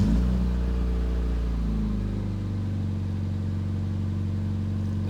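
A Mazda MX5 engine starting after an oil, air filter and spark plug service, catching with a brief rising rev, then settling into a steady, close, even idle hum.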